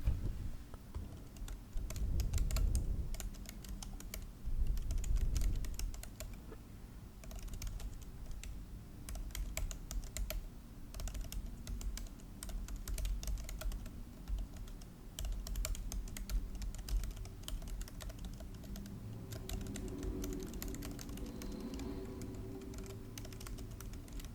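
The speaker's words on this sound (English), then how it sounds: "I just wanted to do some keyboard tapping on my MacBook keyboard" Fingers tap on a MacBook keyboard in quick, uneven bursts of light clicks, recorded close in a quiet room, with a low rumble of passing traffic swelling in the background.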